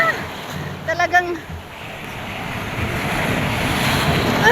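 Wind-buffeted ocean surf at a beach in La Union roars steadily and swells louder toward the end, with a few brief vocal sounds near the start.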